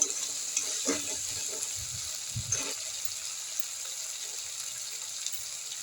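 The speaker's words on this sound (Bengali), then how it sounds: "তারপরে দিয়ে দিলাম শুকনো লঙ্কা বাটা, এই শুকনো লঙ্কা এটার সঙ্গে পুরোটা কষানো হবে মশলাটা।" Dried red chilli paste and spices frying in oil, a steady soft sizzle with a few stirring scrapes and knocks early on before settling into an even hiss.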